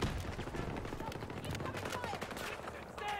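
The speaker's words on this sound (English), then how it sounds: "I need to see if a grenade launcher can do anything to that though." Built-in grenade launcher firing in a video game, a dense stretch of rapid gunfire and explosive pops running throughout, steady and fairly loud, with speech mixed underneath.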